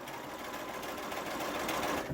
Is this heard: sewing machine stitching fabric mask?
yes